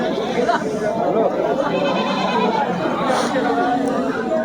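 Goats bleat here and there amid the busy chatter of a crowd at the outdoor Deohata goat market, with voices filling the background.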